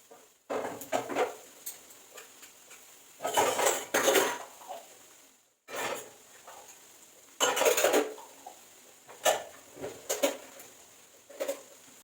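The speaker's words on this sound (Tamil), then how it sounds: "நம்ம இப்போ யூஸ் பண்ண பாத்திரம் எல்லாம் சிங்கில் கிடந்தது, அதையுமே விளக்கி எடுத்துடலாம் அப்படின்னு அதை தான் விளக்கிட்டு இருக்கேன்" Clinking of dishes and utensils in a sink, coming in irregular bursts of clatter separated by short quiet gaps, close by.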